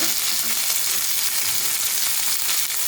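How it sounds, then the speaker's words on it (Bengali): Onions sizzle and fry steadily in a pan as tomato and spices are about to be added, a dense, loud crackling hiss that continues without a break, close by and with no talk. "পেঁয়াজগুলো ভাজা হয়ে গেছে মোটামুটি এখন আমি মশলাগুলো দিয়ে দেবো"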